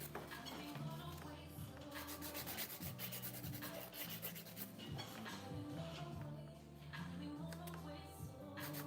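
Hand file rasping sharp edges off hair-highlight foils or tools during a salon colouring session, a continuous run of quick, close back-and-forth rubbing strokes over a low background hum.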